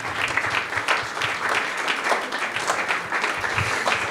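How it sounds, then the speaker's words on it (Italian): Dense audience applause fills a film festival event in Rome, steady and fairly loud throughout with many overlapping claps and no speech. "Applauso Alessandro Piva."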